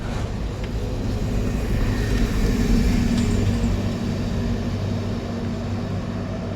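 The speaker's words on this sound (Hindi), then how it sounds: "हाफ क्लच पर जाने दो, जाने दो पीछे को" A car engine idles and hums steadily while the car is reversed slowly on half clutch during driving practice, a low continuous drone with a slight swell midway and no speech.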